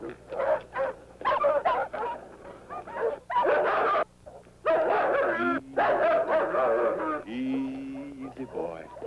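Dogs bark and whimper in a 1964 TV courtroom drama, the yelps and whines coming in short bursts mixed with close, continuous talk from several people.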